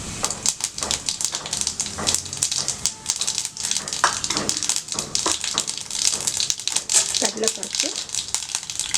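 Mustard and cumin seeds sizzle and crackle in plenty of hot oil while wheat rava upma is cooked, with a dense, continuous frying hiss and popping close by and a voice talking over it.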